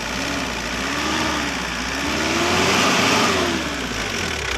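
A Mitsubishi Delica engine idles steadily with a smooth, even mid-pitched hum and a slight wavering drone, loud and close, with no talk over it.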